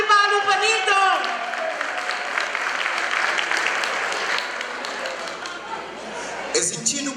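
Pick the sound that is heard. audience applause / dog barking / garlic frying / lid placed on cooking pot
audience applause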